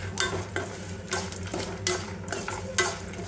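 Capsicum pieces and dried red chillies frying in a pan, stirred briskly with a spatula, producing repeated scraping strokes about every half second over a continuous close sizzle.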